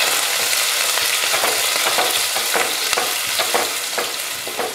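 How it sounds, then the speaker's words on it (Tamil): Small onions, curry leaves and fenugreek seeds saute in hot oil for a fish curry, giving a close, continuous sizzle broken by scraping stirs, with no talking. "இதை வதக்கிடலாம்."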